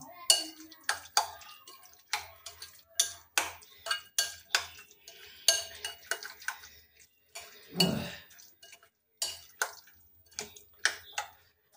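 Steel spoon working through curd rice with salt in a bowl, a run of sharp clinks and soft wet squelches in an irregular rhythm, close and fairly quiet, with a louder scrape near the end.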